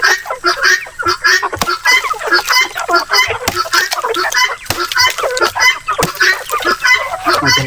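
A flock of native chickens crowding in at feeding time, dense overlapping clucks, squawks and chattering calls, loud and close, with a few sharp knocks among them.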